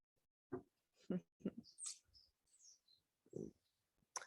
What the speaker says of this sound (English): The bird friends decided to visit here.